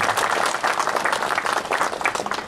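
Crowd claps together at a factory inauguration ceremony, a continuous, fairly loud patter of many hands with no talking over it.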